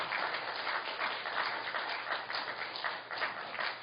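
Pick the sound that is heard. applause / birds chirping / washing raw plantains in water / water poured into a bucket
applause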